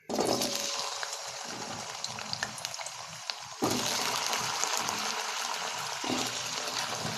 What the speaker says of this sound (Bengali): এবার কচুগুলো একটু সুন্দর করে ভেজে নেব